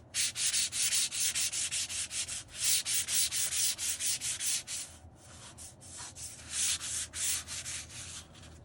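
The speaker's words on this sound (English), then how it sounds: "Grab your sandpaper." Hand sanding of a painted cabinet with sandpaper: rhythmic, close, scratchy back-and-forth strokes in quick repeated bursts, with a brief pause midway before the strokes resume.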